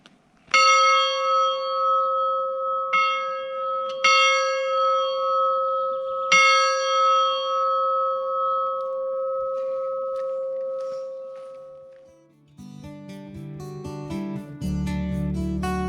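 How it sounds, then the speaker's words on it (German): A small chapel bell at a forest edge in the Odenwald rings out in several clear, resonant strikes, each leaving a long sustained hum, before giving way to other sounds near the end. "Mit läutbarer Glocke vorne dran."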